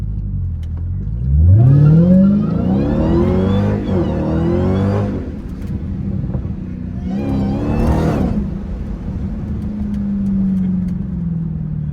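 A Dodge Hellcat driven through tight turns in a neighborhood revs up loudly in rising sweeps, drops, then surges again in a second burst before settling into a lower, fading drone.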